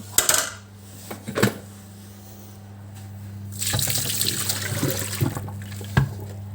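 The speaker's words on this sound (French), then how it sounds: "On va venir rincer le bol." Running water rinses a Thermomix TM6 bowl in a sink after baking cookies, with clinks and splashes at first, then a steadier stream of water with knocks against the bowl.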